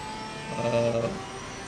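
A Porsche GT3 race car engine in Assetto Corsa Competizione at Suzuka gives a brief, faint rev that swells and fades over steady background hum.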